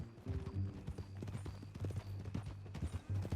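Horse hooves clip-clop steadily in Red Dead Redemption 2, a series of close, firm strikes carried under a low droning game background without any talk.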